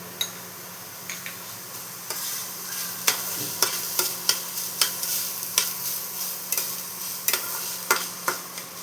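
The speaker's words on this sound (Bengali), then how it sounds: "এটা একটু ভালো মতো ভেজে নিতে হবে।" Ginger and green chili paste fries in a pan for a Bengali banana-flower dish, a steady sizzle with a series of sharp spoon clicks and scrapes as it is stirred.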